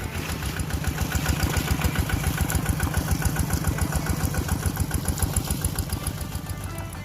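A tractor plows a muddy rice paddy, its engine chugging in a steady rapid knocking rhythm, loud and close throughout with no talk.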